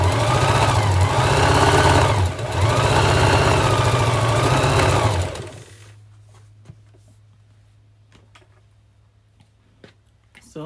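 A sewing machine stitches an XXL scrunchie made by the burrito method, with a close, steady motor whir for about five seconds that briefly dips, then falls to near silence with faint scattered clicks.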